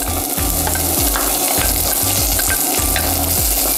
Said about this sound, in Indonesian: Kalau minyaknya udah panas, masukkan bawang merah yang udah dipotong memanjang sebanyak 15 gram.